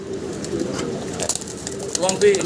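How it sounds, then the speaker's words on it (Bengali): Many pigeons of several breeds coo at a large pigeon farm, soft repeated throaty coos and a few sharper calls overlapping close by, with wing flutters and a bit of background voice. "অনেকগুলা অনেক জাতের কবুতর আছে এখানে"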